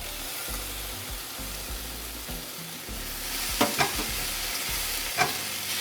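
Onions sauté in a pan with a continuous close sizzle, a few sharper stirring knocks and clicks toward the end, no voices.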